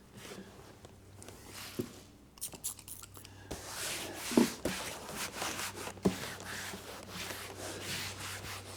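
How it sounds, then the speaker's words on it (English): Cloth rubbing a conditioning product into an aged, fading vinyl car interior part, heard as soft close wiping and scrubbing strokes with a few small knocks, no speech. "we can just wipe a little here, and you can see you can start pulling some color off just because of the age of it"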